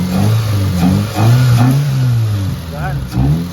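A Mitsubishi Lancer GSR engine revs up and holds a steady, rising drone, then eases off, with the air conditioning on and a person talking over it up close.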